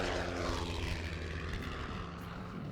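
Race 57 racing airplane in flight, its engine a loud, steady droning roar that holds throughout with a slight fade near the end.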